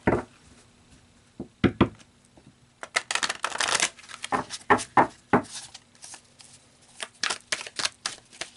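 Tarot cards being shuffled close by in repeated bursts of riffling and rustling, pausing briefly between rounds.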